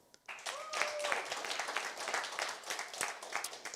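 Audience at an SXSW startup pitch day breaking into steady applause, many hands clapping in a dense, moderately distant roll that swells quickly and continues, with brief voices in the room.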